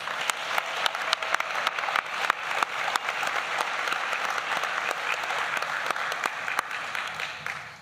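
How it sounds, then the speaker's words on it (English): Sustained applause from a large crowd, dense clapping holding steady for several seconds before tapering slightly at the end. "Please give them another round of applause."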